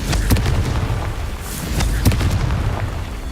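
Fiery Confringo spell blasts from Hogwarts Legacy, with repeated booming bursts at steady intervals: sharp impacts that each crackle out into a rumbling tail over a continuous low game-world din.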